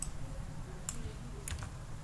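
Computer keyboard keystrokes sound as a few faint, quick clicks from keys pressed while copying text in code, with a low room hum behind them.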